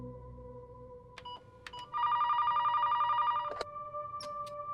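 An office telephone rings for an incoming call, a bright electronic ring sounding clearly for over a second amid faint background tones.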